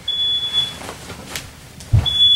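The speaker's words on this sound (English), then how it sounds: "It sounds like someone's cooking" A smoke alarm set off by fish being cooked sounds two sharp, high electronic beeps, one near the start and another near the end, with a thud in between.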